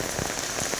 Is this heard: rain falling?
yes